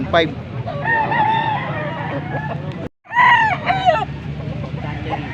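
A rooster crows loudly and close, two long strained calls separated by a brief silence, with clucking and chatter of other fowl around it.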